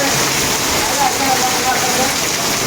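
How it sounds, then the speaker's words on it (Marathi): Heavy monsoon rain in Mumbai pours down in a dense, constant roar of water hitting surfaces, close and loud throughout. "बघा पावसाचा आवाज बघा."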